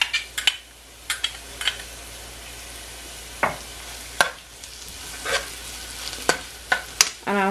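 Green seasoning goes into a hot pot for callaloo spinach rice with salted pigtails, bringing a low sizzle broken by sharp spoon scrapes and clinks against the pot at irregular intervals.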